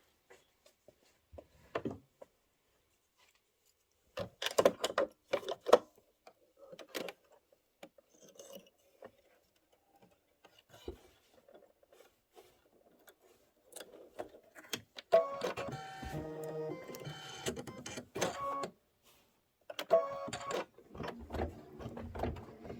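An embroidery machine stitches a buckle on a Kimberbell Cuties table topper with Kingstar thread, giving quiet, intermittent bursts of rapid mechanical ticking and whirring separated by silent pauses.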